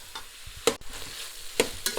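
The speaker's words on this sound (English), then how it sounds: "you need to fry this chicken mince for at least 5 minutes" Stirring and scraping chicken mince in a frying pan over a steady low sizzle, with two sharp clatters of a utensil against the pan.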